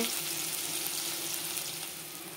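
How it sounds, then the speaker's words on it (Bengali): Onions frying in oil in a kadai give off a steady, close sizzle with a continuous hiss that holds even and alone throughout. "পেঁয়াজগুলোকে একটু লাল লাল করব।"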